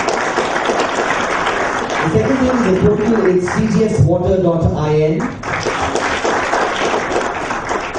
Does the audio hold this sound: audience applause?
yes